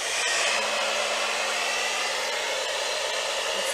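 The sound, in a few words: hair dryer blowing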